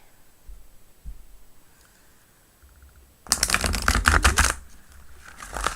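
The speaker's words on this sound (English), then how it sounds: "now you're shuffling better" A deck of tarot cards shuffled during a live reading, a dense riffling rattle starting partway through after quieter handling taps, close and fairly loud with no talking.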